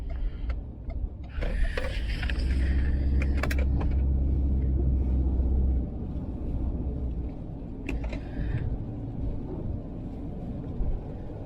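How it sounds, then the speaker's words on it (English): A heavy, low roar of Hurricane Ian's strong wind buffets a truck, heard from inside, in Hampton, Virginia, loudest in the first half, with scattered rattles and ticks. "I'm sure y'all can hear that wind even inside the truck."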